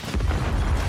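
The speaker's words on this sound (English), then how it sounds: "Sticky grenade!" A sticky grenade detonates in the Warzone video game, a short, dense low boom that fills the whole moment without any talk over it.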